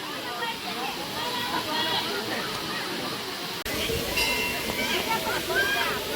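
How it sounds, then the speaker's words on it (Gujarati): A small waterfall at the Kedariya Mahadev temple near Jesar splashes and rushes nearby in a continuous wash of falling water, with a brief dropout partway and people talking over it. "જોઈ શકો છો ઝરણું પડે છે મસ્ત."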